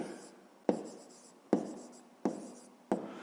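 A pen writes out a fifth-grade maths solution on paper: four firm, evenly spaced strokes, each with a soft scratching tail, close and quiet with no voice.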